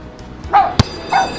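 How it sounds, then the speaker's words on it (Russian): A puppy gives two short, high yips with a sharp click between them, close and fairly loud. "и лай щенка"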